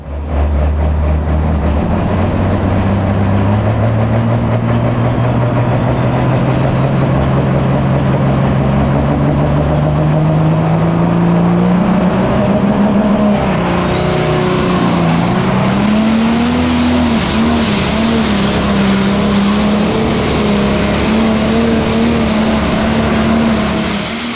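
A 4.1 limited pro pulling tractor roars loud and close at full power, its engine pitch climbing and wavering steadily through a long continuous pull with no talk.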